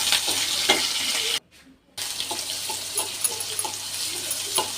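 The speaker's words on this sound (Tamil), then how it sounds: "பொன்னிறமாக வறுத்து கொள்ள வேண்டும்" Onion, mustard seed, fennel, cumin, urad dal and curry leaves fry in hot oil for a potato kuzhambu, a steady bright sizzle with stirring scrapes, broken by a short near-silent gap before the crackle resumes.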